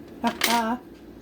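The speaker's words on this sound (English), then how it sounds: "Smear my peanut butter on there." A knife scrapes a brand-new jar of peanut butter and smears it onto jelly-topped French toast, giving two short, close scraping strokes with a squeaky, tonal ring, the second one longer.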